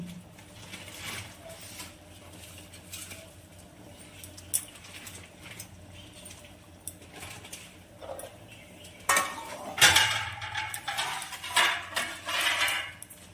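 Pieces of chitol fish go into a simmering curry in a pot. Faint bubbling and utensil clinks come first, then louder splashy clatter and scraping as the fish is added, with intermittent knocks toward the end.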